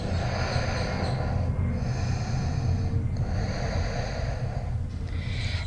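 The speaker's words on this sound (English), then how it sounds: "Keep breathing." Slow, audible breaths come during a prenatal yoga back-bend, the locust pose (Shalabhasana), done for back pain relief. Long airy inhales and exhales sound close to the ear, with brief pauses between them.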